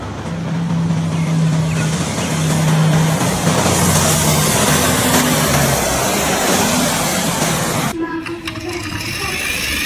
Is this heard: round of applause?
no